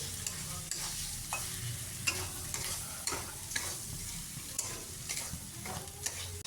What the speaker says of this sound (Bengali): এবার আমি চিংড়ি মাছটা দিয়ে দিচ্ছি, নুন হলুদ দিয়ে মাখিয়ে রেখেছিলাম।